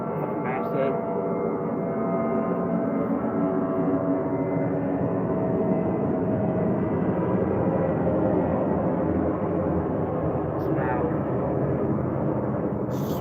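A loud airplane passes overhead, a broad sustained roar that swells steadily and holds for the whole stretch, heard indoors during a casual livestream.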